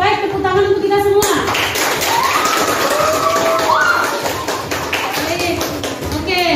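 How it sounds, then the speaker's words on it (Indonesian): Classroom applause after group presentations: a short voice, then many students clapping together in a steady, lively burst that lasts several seconds. "tepuk tangan untuk kita semua"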